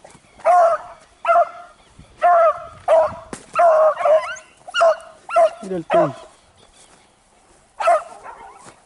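A beagle puppy in hunting training yips and barks in repeated short, loud bursts nearby, with whimpering tones between, while someone talks in Spanish over it.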